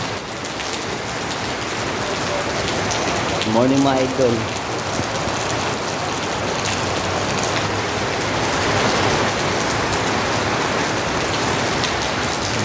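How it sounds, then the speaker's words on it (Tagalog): Steady rain falls on a new building and drips from a downspout, a dense, continuous hiss throughout, with someone briefly speaking over it partway through. "Mamaya lumakas ang ulan ba?"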